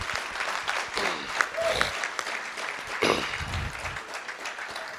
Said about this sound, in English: Let's give Caleb a round of applause.